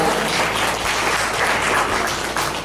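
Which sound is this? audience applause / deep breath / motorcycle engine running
audience applause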